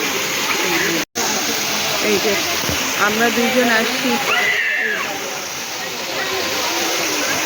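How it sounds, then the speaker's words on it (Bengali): Himchhari waterfall near Cox's Bazar, clear water pouring and flowing past in a steady, broad rushing hiss, heard close while people talk over it. "এই পানিটা পড়ে কি পরিষ্কার পানি, স্বচ্ছ পানি এইখান দিয়ে চলে যাচ্ছে"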